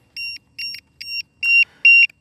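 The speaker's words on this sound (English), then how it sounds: "Let's get this incessant beeping out of here." An RC electric ducted-fan jet, an Eachine F-16 50mm foam model, emits a repeated electronic beep: five evenly spaced tones, each lasting about a fifth of a second, loud and clear with silence between.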